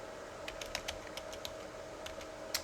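Keys tapped on a computer keyboard in short irregular bursts of light clicks, close but fairly quiet over a steady electronic hum.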